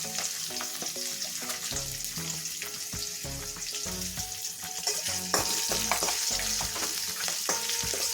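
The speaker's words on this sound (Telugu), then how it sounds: "దూరగా వేగాలండి" A tempering for Telugu temple-style daddojanam fries in a pan, a continuous soft sizzle with occasional stirring scrapes and light pops, close and steady without talk.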